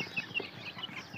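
Young chicks about two months old cluck and peep in a brief, busy burst of soft, high calls close by, with no talk over them.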